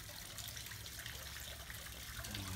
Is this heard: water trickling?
yes